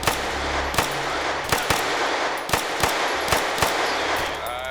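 Gunfire in ARMA 3, a series of about seven sharp, loud shots fired at uneven intervals over a steady noisy background, close and distinct.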